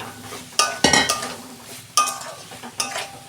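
A spoon scrapes and clinks against a pan while spiced soybean curry with sugar is sautéed, giving about five sharp, uneven knocks over a quiet background.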